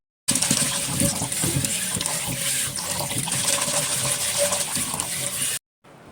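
Masoor and mung dal are washed under running water in a home kitchen, a steady gushing flow that starts abruptly, runs for about five seconds and then cuts off.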